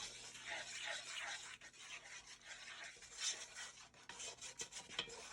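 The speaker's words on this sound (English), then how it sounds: "So I'm going to keep stirring until I get all my cocoa all dissolved." A utensil scrapes and rubs around a pan as cocoa is stirred into hot milk over medium-low heat, a faint continuous swishing with small clinks near the end.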